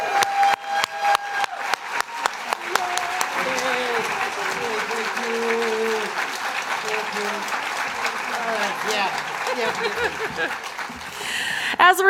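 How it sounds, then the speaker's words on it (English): Hearty applause from a seated audience at an awards luncheon, a dense steady clapping that swells and fades over several seconds, with a few scattered claps and faint laughter near the end. "hearty round of applause."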